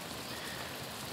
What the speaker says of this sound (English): once this rain settles a bit